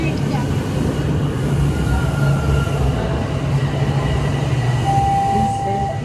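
A Toronto TTC Line 1 subway train rolls slowly through construction on the tracks, a loud continuous rumble of wheels and car noise from inside the carriage, with faint tonal whines rising briefly.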